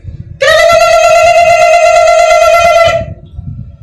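A voice imitates a truck horn, holding one steady, loud, reedy blaring tone for about two and a half seconds, with low crowd murmur before and after.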